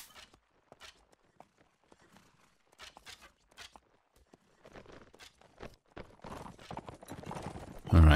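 Cavalry horses in Mount and Blade Warband clip-clopping as they move off, scattered hoofbeats at first that build into a denser, louder trample of many hooves near the end.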